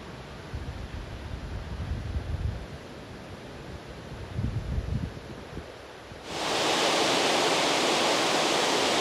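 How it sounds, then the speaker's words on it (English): Bridalveil Fall in Yosemite roars as a steady wash of falling water, with wind buffeting the microphone and low rumbles early on before the cascade turns loud, bright and constant for the last few seconds. "So I made my way over from the Merced River to Bridalveil Falls, which again, like Yosemite Falls, if you're in Yosemite, you gotta visit this waterfall"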